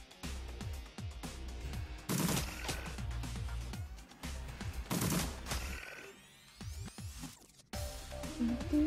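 Repeated bursts of gunfire aimed at an insect pillar in the game Shadowrun Returns, loud volleys in several clusters with short gaps between them.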